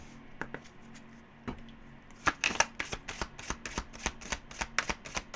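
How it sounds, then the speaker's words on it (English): Tarot cards shuffled by hand during a daily reading, a quiet rustle followed by a run of crisp riffling snaps and taps, close and alone. "let's pull you a Sun Tzu card, and then we will pull one of the naughty cards"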